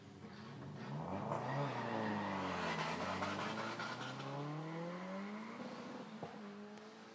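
Peugeot 205 and 306 race cars launch off the line of a practice hill climb at the Run Trophy event, one engine revving hard and rising in pitch as it accelerates and sweeps past, then fading with a tire chirp.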